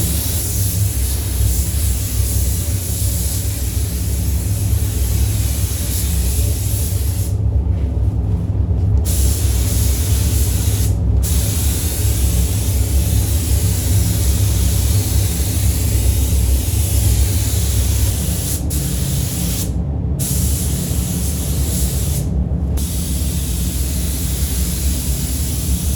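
Steady broadband hiss of a spray gun coating a Toyota Celica with fresh paint, continuous and loud for the whole stretch with no talking, only a few short breaks where the trigger is released.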